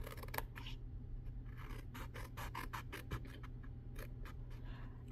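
Scissors or a blade slice through cardboard along a box's score line, making a faint, close series of crisp rasping snips in an irregular rhythm, with no talking.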